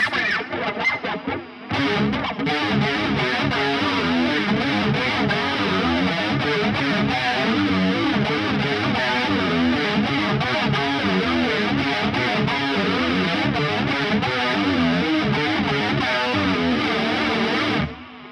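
A distorted electric guitar plays a driving riff through a budget NUX chorus pedal, with a shimmering, swirling chorus effect, loud and continuous for nearly the whole stretch.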